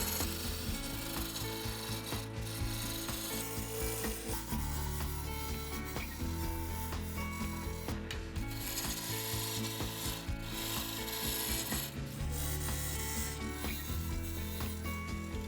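Continuous scraping and rasping of a roughing gouge cutting into spinning wood on a wood lathe, shaping a rolling pin, with steady mechanical rumble and rhythmic chatter throughout, loud and close.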